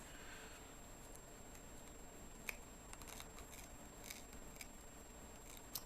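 Quiet, irregular snips and small clicks of scissors cutting wig hair, close and faint over a steady background hiss.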